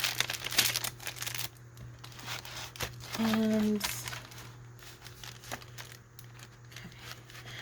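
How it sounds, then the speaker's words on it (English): Paper crinkles and rustles as it is fitted into a handmade Christmas junk journal, with a brighter crinkling burst in the middle, all under close, quiet talking. "I could have torn the paper down, but I kind of like it, the sound"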